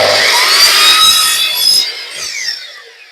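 A handsaw trimming a piece of wood for a nest box: a few close, loud rasping strokes that fade out over about three seconds, with no talking.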